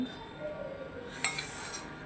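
A spoon clinks sharply against a bowl once or twice while yogurt is added to methi muthiya dough; the sounds are brief and close over a quiet room hum.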